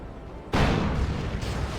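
Demolisher Cannon firing in the video game Dawn of War 2, one sudden heavy blast that rolls into a sustained, dense roar of battle noise, loud and close.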